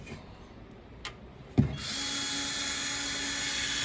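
Electric power tool driving bolts while assembling a Northbox Polaris 003: a couple of faint knocks, a sharp clunk, then the motor starts and settles into a steady close whir.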